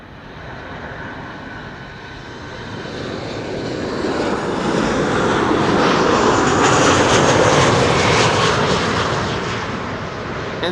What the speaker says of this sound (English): flight 1164 arriving from Bergen